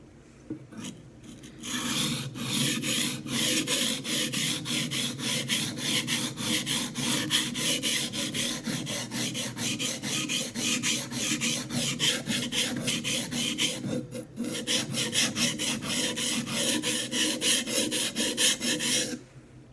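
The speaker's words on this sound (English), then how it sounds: "One thing this stone is good for is that the mud will actually cut off that burr pretty quickly." Knife blade being sharpened on a coarse sharpening stone with mud on it, a continuous rhythmic rasping scrape of steady back-and-forth strokes, close and loud, with a brief pause near the middle.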